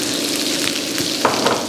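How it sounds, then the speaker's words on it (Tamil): Chopped onion sizzling in hot oil in a pan while cooking Mongolian chicken, a steady close hiss of frying with faint stirring scrapes, no voices. "இப்போ ஆனியன் போட்டணும்."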